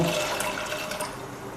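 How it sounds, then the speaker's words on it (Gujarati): Toor dal tipped into a pot of hot water for boiling a Gujarati dal, giving a brief, close splashing and liquid wash that fades over about a second and a half. "દાળ બાફવા માટે આપણે પાણી ગરમ થઈ ગયું છે તો દાળને આપણે ઉમેરી દેશું"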